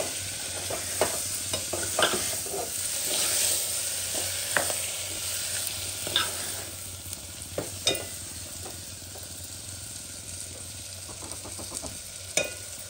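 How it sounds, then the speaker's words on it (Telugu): Masala frying in a pan is stirred with a spoon, a continuous low sizzle broken by irregular scrapes and taps against the metal, loud and close, with no talking. "తర్వాత ఇది ఫ్రై అయ్యేదాకా వేస్ట్ చేయాలి. దాన్ని బాగా కలుపుకోవాలి."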